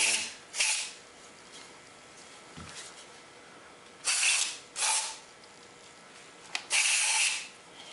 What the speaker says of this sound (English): I'm just going to start spraying. Got some non-chlorinated brake cleaner.